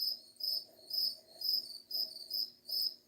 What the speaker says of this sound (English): The crickets are saying goodbye.